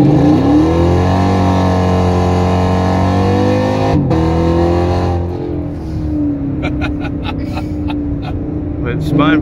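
A car launches hard with its wheels spinning: a loud, steady engine drone climbs, then breaks into rough, hissing tire-spin noise with sharp bursts close by.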